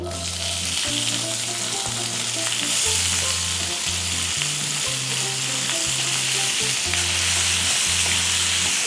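Chopped onions go into hot oil with cumin for a prawn fry, giving a loud, steady sizzle with stirring, under a repeating background melody.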